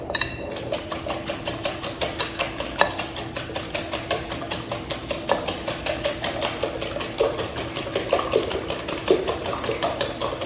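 Eggs being whisked with a whisk in a bowl: a fast, steady clatter of metal taps, about four per second, close and fairly loud, continuing unbroken with no talk.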